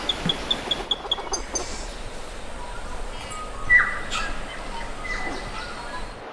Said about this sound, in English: With the amount of birds that you can hear, you can tell like it's dense forest area.